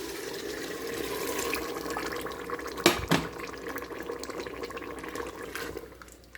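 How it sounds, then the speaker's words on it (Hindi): Lukewarm water poured into a pot of black chickpea curry, a soft continuous trickle and splash with a brief louder slosh midway, fairly quiet and close. "मैं इसमें 2 कप इसके शोरबे के लिए पानी भी डाल रही हूँ।"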